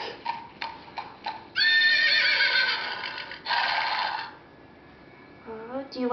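A toy horse plays a loud, close recorded whinny after a run of clip-clop hoof sounds, then falls quiet before a brief higher call at the end.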